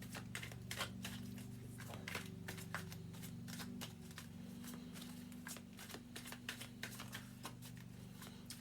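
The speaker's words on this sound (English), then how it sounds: "I'm going to give it a bit more of a shuffle." Albano Rider-Waite tarot cards are shuffled by hand in a steady patter of soft riffles and flutters that runs through the whole stretch, close and fairly quiet over a low background hum, with no talking.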